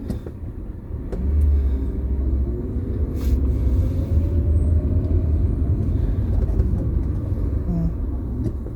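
Cars move through congested city traffic near a pedestrian crossing, a steady low engine rumble and road noise heard from inside a vehicle, with a faint passing swell and occasional small knocks.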